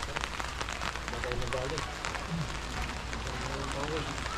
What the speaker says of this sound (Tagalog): Pagka init-init, biglang umulan.